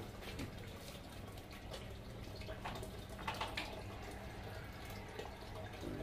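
Oxygen aerator running in a fish tank holding freshly caught river carp, giving a steady, continuous wash of bubbling and dripping water with no pauses, at moderate level throughout.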